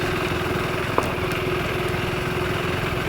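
A KTM 390 Enduro R motorcycle engine runs in a steady, continuous drone for a few seconds, with no voices.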